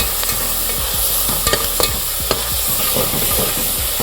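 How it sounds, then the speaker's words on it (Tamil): Ginger garlic paste sizzles steadily in a hot pan while a spoon stirs and scrapes repeatedly, close up, with no voices. "இஞ்சி பூண்டு பேஸ்ட் போட்டுக்கலாம் பச்சை வாசத்தோட எல்லாம் வந்து வதக்கிடலாம்"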